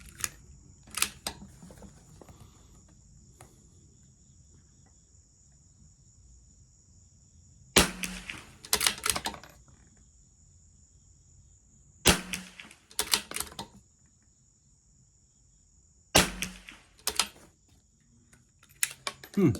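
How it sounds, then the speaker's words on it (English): A CZ 457 bolt-action rifle with an MDT ACC chassis has its bolt worked in three sharp metallic clusters of clicks and clacks, separated by long quiet gaps, as the last round fails to eject. "Seems like it won't eject that last round out of the chamber"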